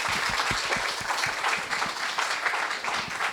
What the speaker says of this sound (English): So please join me in giving him a warm applause for his keynote.